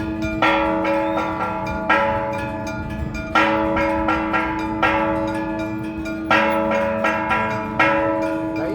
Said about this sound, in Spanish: tuvimos la suerte de escuchar las campanadas, que las tocan a mano